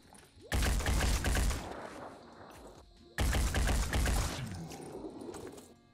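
Two heavy rifle volleys in the tactical game Phoenix Point, each a loud broadband burst of rapid shots with a ringing tail, the first near half a second in and the second a little past three seconds.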